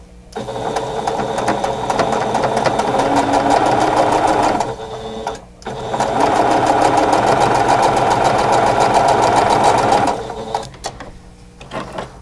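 Sewing machine stitching a quarter-inch quilting seam: loud, steady mechanical whirring and rapid needle clatter in two long runs, separated by a brief pause and trailing off at the end.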